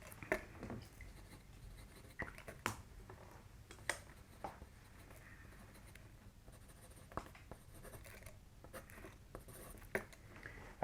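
Pen writing on a cue card gives soft continuous scratching strokes with occasional sharper taps, close and quiet over a faint room hum, no speech.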